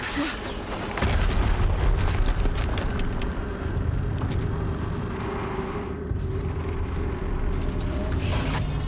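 A heavy explosion booms in the video game Horizon Zero Dawn, a loud low burst at the start that spreads into a sustained rumbling roar with more thuds rolling underneath.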